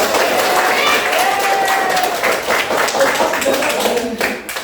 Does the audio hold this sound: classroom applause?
yes